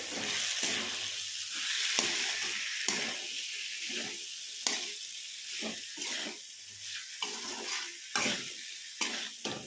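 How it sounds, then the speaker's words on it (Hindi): Rajma and fried potatoes are mixed into masala in a pan, giving close, repeated scraping and stirring strokes over a steady hiss of sizzling. "इनको अच्छे से मसाले में मिक्स कर लेंगे।"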